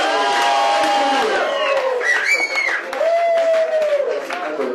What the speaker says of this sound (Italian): Io vorrei un grosso applauso proprio per questa esclusiva che abbiamo con noi questa sera.